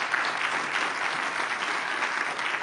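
Big round of applause for a panel at a World Economic Forum climate session, a large audience clapping in a thick, even wash that stays loud and unbroken throughout.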